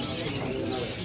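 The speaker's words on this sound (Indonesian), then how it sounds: "burung udah bunyi semua bosku ya" Birds at a bird market in Pasar Burung Dapit, with a soft dove-like coo and a brief chirp over a busy crowd murmur, all heard up close.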